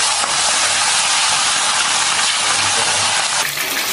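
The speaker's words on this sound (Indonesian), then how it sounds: "Kalau sudah panas, kita masukkan ayamnya." Loud, continuous sizzling and crackling of chicken frying in hot oil in a wok, steady throughout with no voices.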